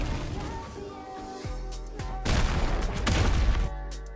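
Explosion in the Roblox fighting game The Strongest Battlegrounds, a loud booming burst with crackling debris rising over busy game effects and holding to the end.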